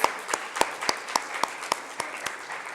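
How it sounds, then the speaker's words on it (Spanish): Rhythmic clapping at a church service, sharp evenly spaced claps, about ten in a steady beat against a quiet background. "Dele un aplauso al Señor."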